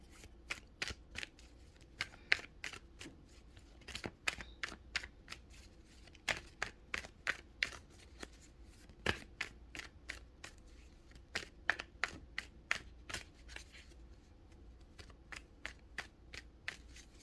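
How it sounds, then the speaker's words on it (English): Rapid riffle shuffles of a tarot deck, repeated bursts of crisp snapping clicks in a steady rhythm, close and fairly quiet with no talking. "I'm just gonna shuffle"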